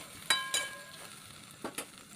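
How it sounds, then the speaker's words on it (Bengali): Chili powder and spice masala sizzling in a pan for a Bengali dudh shukto, a steady faint crackle broken by a few sharp stirring scrapes. "এরপর আমি লঙ্কা গুঁড়ো দিয়েও কষিয়ে নিচ্ছি আর এইভাবে ভাজা ভাজা করে কষিয়ে নেবো যাতে মশলার কাঁচা গন্ধটা চলে যায়"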